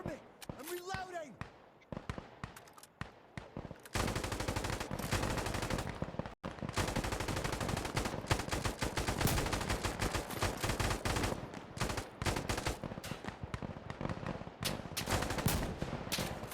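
Rapid automatic gunfire in the shooter game Insurgency Sandstorm, loud, dense bursts of shots that run almost continuously after a brief quieter opening, with someone talking over the shooting.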